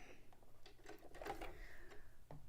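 Sewing machine running a short wide test stitch on a cape or dress project, a quick rapid mechanical chatter of needle strokes at close range, fairly quiet, with no talking.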